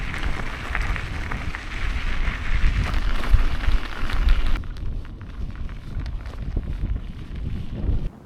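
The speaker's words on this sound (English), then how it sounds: "The wind was really starting to pick up." Strong wind on the John Muir Way trail in Scotland buffets the microphone in a continuous rough roar, easing somewhat partway through.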